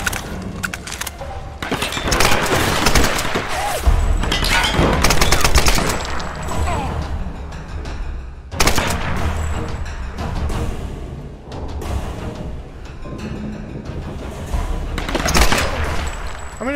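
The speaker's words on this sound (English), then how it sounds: "the assault rifle doesn't sound like an assault rifle should to me, anyway" Sustained bursts of assault rifle and machine gun fire in the action game Tomb Raider, with rapid repeated shots and short pauses, mixed with game effects throughout.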